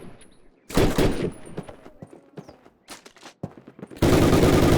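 A Thompson submachine gun fires on a training range in Call of Duty, bursts of rapid automatic shots separated by quieter gaps, ending in a loud sustained burst.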